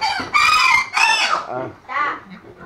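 Loud, close hen vocalizations repeat in several harsh, throaty bursts, with a raspy clucking and squawking quality and no talking.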